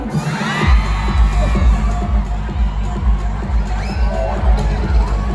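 Crowd at a gathering celebrating Tatay Digong's 80th birthday, loud and continuous, with cheering, shouting and rhythmic clapping or thumping throughout, voices rising over the din.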